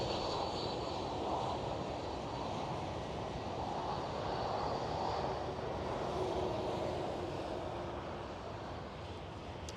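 KLM Airbus A330 taking off from runway 09 at Amsterdam Schiphol, a loud, steady jet engine roar that holds broad and continuous throughout, easing slightly toward the end.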